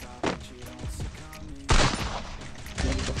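Scoped rifle gunfire in the video game Free Fire, a few sharp loud shot bursts with short gaps between them, heard close over game music and ambience.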